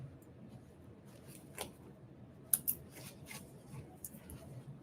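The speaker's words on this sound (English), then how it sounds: "if you've got little snips, they come in handy to get those little threads taken care of" Small snips clip loose threads on a sewn caddy bag, making faint, quick snicks spread across several seconds, with a couple of sharper cuts close together near the middle.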